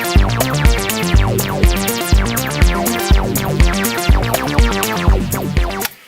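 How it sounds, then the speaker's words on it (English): A synth plays a bass part in FL Studio, looping a steady, punchy pattern of repeated notes in an even rhythm, loud and close, with no talking, then cutting off abruptly at the end. "Now, I have a synth here doing the bass part."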